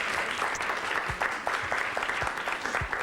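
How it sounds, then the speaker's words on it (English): Sustained audience applause fills the whole stretch, a dense wash of many hands clapping at steady loudness with no voices over it. "How about a nice round of applause for the effort?"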